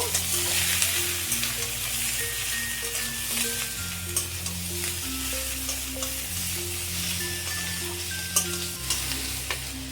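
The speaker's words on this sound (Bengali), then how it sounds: "এগুলোকে দিয়ে আমি ভালো করে মিশিয়ে নেব।" Chopped vegetables with green chili and peas are stirred in a frying pan, a steady soft sizzle with scraping spoon strokes over a low background hum, no talking.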